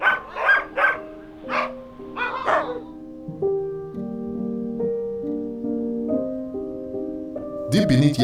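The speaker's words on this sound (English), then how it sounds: "As you can see, there are some dogs here." Dogs in the extreme cold of Yakutia give a few sharp barks and yips, then drawn-out whimpering or howling tones, close and moderately loud.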